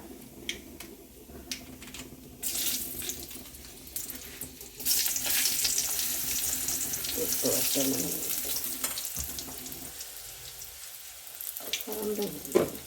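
Steady crackling sizzle of mustard seeds popping in hot oil, growing louder midway, with scattered pops and faint kitchen clatter.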